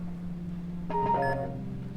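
A phone call picked up in the video game Lucid9: a steady low hum gives way to a short burst of bright electronic beeps and tones about halfway through, then a fainter tonal ring continues under the background.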